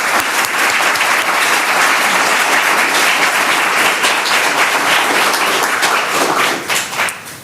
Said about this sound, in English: if you would come together with me in a round of applause to celebrate these teams